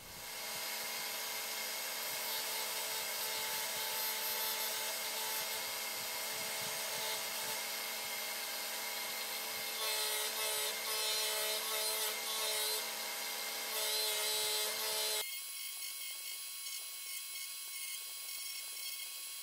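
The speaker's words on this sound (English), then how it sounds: "To shape those, going to use the angle grinder disc sander with my nice new sanding pad." An angle grinder fitted with a sanding pad shapes small wooden game pieces for a football game, giving a steady, close, loud grinding rasp that continues throughout, with a shift in tone near the end.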